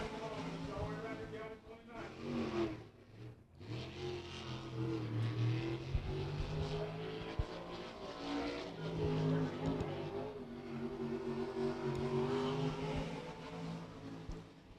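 A race car charges down the back straightaway during qualifying at Beckley Motor Speedway, its engine roaring steadily and somewhat distant, rising and falling, with commentary spoken over it.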